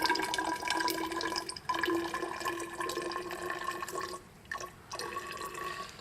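Hydrochloric acid is poured into a graduated cylinder in a lab, a quiet, continuous trickle of liquid with a faint ringing tone from the glass, pausing briefly near the end.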